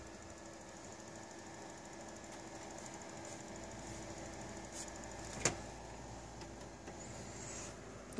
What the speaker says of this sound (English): Oh, it's this fan that's clicking now.